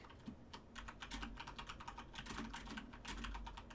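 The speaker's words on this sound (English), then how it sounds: "Alright, I'm typing to them." Rapid, uneven typing on a computer keyboard, key clicks clustered in quick bursts with short pauses, close and moderately loud with no talk over it.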